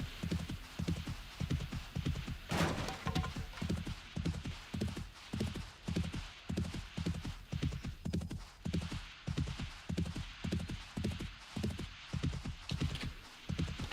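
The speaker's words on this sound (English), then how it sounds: "Makes me laugh, this horse skids out." A horse gallops in the video game 7 Days to Die, a steady, rhythmic clip-clop of hooves running continuously at moderate distance with no talk over it.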